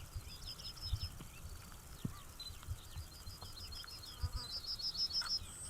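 Insects buzzing in countryside after summer rain, a faint, continuous high chirping and whirring with small flies droning past, layered over soft low rustling and occasional distant thumps.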